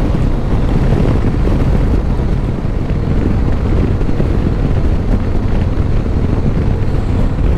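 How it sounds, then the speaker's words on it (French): Heavy wind rush buffeting a rider on a 2024 Harley-Davidson Road Glide on a blustery day, loud continuous roaring air with the motorcycle's low rumble underneath. "Parce que là j'ai quand même du vent."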